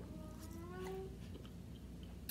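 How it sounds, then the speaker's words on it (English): A pet cat meows once, a short rising cry heard faintly over steady room noise in the background. "My cat is wowing."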